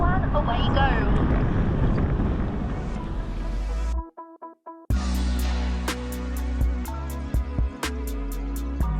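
A fishing boat motor drones and fades away at a barramundi tournament start on Lake Tinaroo, amid heavy wind noise, with a brief sharp break partway and scattered knocks afterward.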